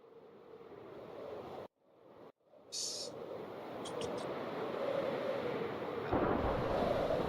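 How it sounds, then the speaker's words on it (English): Thunder from lightning in the Minecraft video game rolls as a loud, sustained rumble with a brief dropout partway through, then builds into a heavier roar toward the end. "Lightning."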